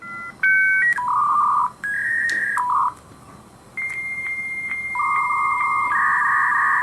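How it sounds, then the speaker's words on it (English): A 1990s dial-up modem handshake: a series of loud electronic dialing tones and beeps, shifting pitch in steps, then sustained warbling tones, played close and without talking. "modem sound from the 90s."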